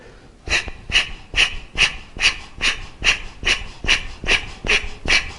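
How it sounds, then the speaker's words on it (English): Kapalabhati yoga breathing sounds as a steady train of about a dozen sharp, forceful nasal exhalations, evenly spaced roughly twice per second, loud and close with quiet passive inhalations between bursts. "It consists of fast breathing technique. That is bursts of exhalation followed by automatic inhalation."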